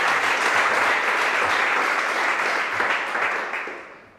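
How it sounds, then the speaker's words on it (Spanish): A church congregation claps in sustained, dense applause for a brother, holding steady for several seconds before fading out at the end. "Vamos a darle un fuerte aplauso a nuestro hermano Rey."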